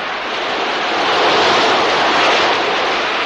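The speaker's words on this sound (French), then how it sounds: "Oh, on dirait un énorme ressac, n'est-ce pas?" Heavy surf crashes on a reef in a French-language audio drama, a loud, continuous roar of breaking waves that swells slightly and holds steady throughout, with no voices over it.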